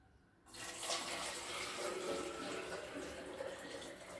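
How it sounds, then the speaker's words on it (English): Preheated hot water pours steadily into a container holding pink Himalayan salt, a continuous close splashing fill that starts abruptly and runs on alone. "I'm going to add on the water that I had told you guys was already preheated."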